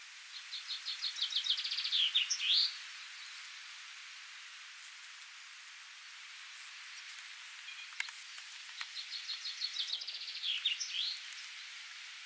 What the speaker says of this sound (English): I'll shut up for a minute here and there and listen to the birds.